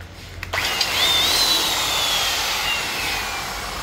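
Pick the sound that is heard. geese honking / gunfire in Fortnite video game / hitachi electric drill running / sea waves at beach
hitachi electric drill running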